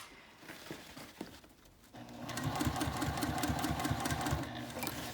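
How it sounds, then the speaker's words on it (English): A sewing machine runs steadily at close range, top stitching a backpack panel along a narrow curved edge. A few quiet handling clicks come before the fast, even motor rhythm starts and continues to the end. "by doing this top stitching line here and going over this little narrow curved edge here"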